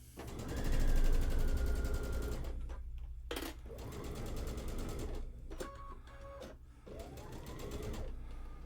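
Sewing machine stitching quilt pieces, a fast close mechanical whir of the needle running in bursts with brief pauses and clacks between seams.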